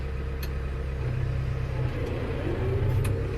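A New Holland T6030 tractor strains under an 11-ton load on bald bias rear tires, a steady low engine rumble and drone with slipping, spinning tires, continuous and fairly close with no talk.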